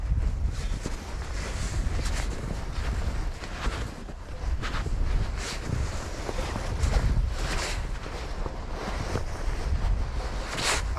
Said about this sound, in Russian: Поднимается ветер.